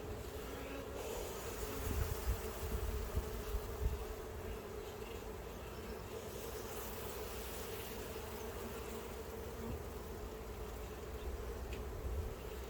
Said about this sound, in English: See, a lot of these are worker bees.